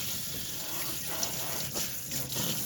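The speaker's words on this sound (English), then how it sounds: "I'm going to go ahead and spray this down" Tap water sprays steadily over a removed dishwasher drain filter, a continuous hiss and splatter close by with slight shifts as the stream moves across the part.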